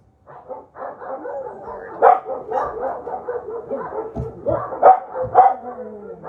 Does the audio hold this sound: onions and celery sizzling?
no